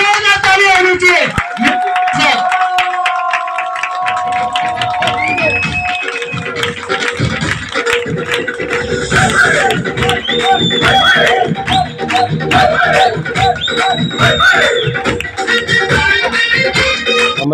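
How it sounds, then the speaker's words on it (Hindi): An audience at a New Year celebration event in Delhi claps and cheers loudly over music and a blaring sound system, with scattered whoops, continuous and dense throughout. "एक बार जोरदार तालियां होनी चाहिए"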